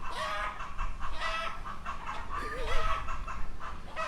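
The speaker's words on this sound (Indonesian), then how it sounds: "Suaranya tuh ayam. Inilah suara di daerah lur." Chickens cluck and murmur nearby over a busy outdoor background, with soft overlapping calls and a faint voice under them.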